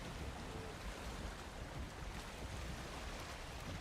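Water waves in the Valheim video game make a steady, even wash of surf and wind-like rushing that holds at moderate volume throughout, with no talking.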